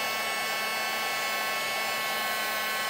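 An old heat tool blows a steady, airy whir while melting embossing powder, a continuous close hiss with a faint hum and no voices.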